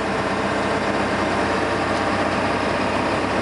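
A truck engine droning at cruising speed, a constant loud, dense rumble with broad road and wind roar, heard from inside the cab without a break or any talking.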